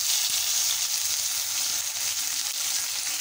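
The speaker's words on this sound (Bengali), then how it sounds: "এবার ফোড়নটা একটু ভেজে নিয়ে এর মধ্যে দিয়ে দিচ্ছি একটা পেঁয়াজ বাটা।" Onion paste frying in hot oil with whole-spice tempering for a raw banana curry, giving a steady, loud, even sizzle with a few faint utensil taps underneath and no talking.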